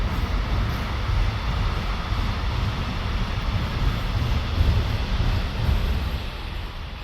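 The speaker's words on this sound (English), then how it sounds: "It's fields and then all of a sudden just a train." A train passes through open fields, giving a steady, loud rumbling roar that holds for several seconds with no clear breaks.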